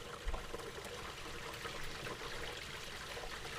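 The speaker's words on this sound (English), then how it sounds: "And the washing machine is right overhead, so you can hear all that water coming down." Water from a washing machine drains through the plumbing overhead, making a faint, continuous pouring and trickling rush in a quiet room.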